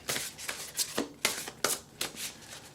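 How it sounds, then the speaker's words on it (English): A deck of oracle cards is shuffled by hand in a steady riffling rhythm, with about eight crisp papery flutters close by and no voices. "So let's go ahead and shuffle."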